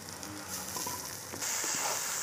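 Tomato drops into a pan of hot oil with lightly fried onion for a spiced fish dish cooked at an outdoor picnic. A soft sizzle jumps to a louder, steady hiss partway through, with a few utensil taps.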